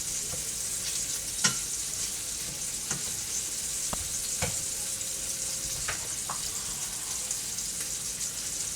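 Sausage and vegetables fry and caramelize in a pan for Spanish-style rice with sofrito and olives, a steady close sizzle broken by a few sharp pops and occasional utensil taps, with no talking.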